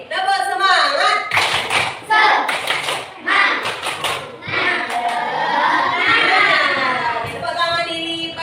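An Islamic religious education classroom does a patterned group clap, bursts of children's claps in rhythmic clusters mixed with shouting and chanting voices, lively and close.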